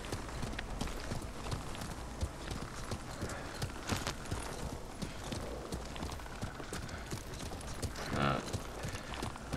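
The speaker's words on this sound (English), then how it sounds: "Lord Sakai taught me to ride a horse." Horse hooves clip-clop at a riding pace in the Ghost of Tsushima video game, a dense, steady run of close hoofbeats filling the clip with a brief whinny-like tone near the end.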